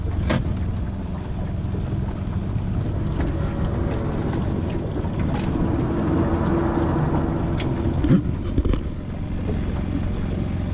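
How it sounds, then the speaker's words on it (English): Floating mooring bollards shifting inside a river lock chamber on the Ohio River as the water level drops, heard as a steady low rumbling drone with a few faint scraping creaks and knocks, no voices. "That noise is those things, the things you're supposed to tie off to moving."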